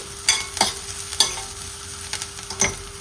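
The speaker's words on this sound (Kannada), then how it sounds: "ಈರುಳ್ಳಿ ಚೆನ್ನಾಗಿ ಫ್ರೈ ಆಗಬೇಕು" Chopped onion frying in a pan, a close steady sizzle broken by about five distinct scraping stirs of the spatula, with no voices.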